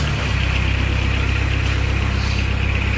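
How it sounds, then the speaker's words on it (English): A Kubota diesel engine on a 2014 Moffett M55 truck-mounted forklift catches and settles straight into a loud, close, steady idle with an even throbbing rhythm and no talking. "Now we're going to fire this Kubota to life."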